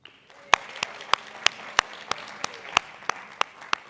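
Clapping from an audience at a radio marketing masterclass, heard as sparse, evenly spaced sharp claps in a steady rhythm, roughly a dozen in four seconds, over a quiet room.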